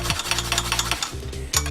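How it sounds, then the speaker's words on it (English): Fresh ginger is rubbed against the small side of a grater in quick, repeated rasping strokes that are close and fairly loud. The strokes pause briefly, then resume, over a low steady hum. "I will be peeling my ginger, then I will grate it"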